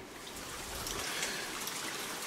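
Water trickles steadily at a small water station along a hiking trail to El Mirador on Isla Juan Fernandez, a soft continuous splashing with no voices.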